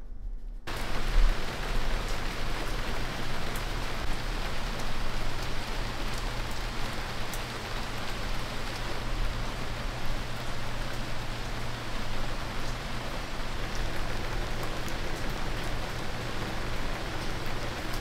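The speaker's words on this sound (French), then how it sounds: "Albert, il pleut à si haut dehors." Heavy rain pours outside in a steady, dense hiss with no let-up, heard from indoors at moderate volume under a low constant hum.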